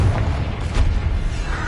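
A Bombarda explosion spell goes off in the video game Hogwarts Legacy, a deep, rumbling boom that rolls on loudly for the whole moment with no clear break.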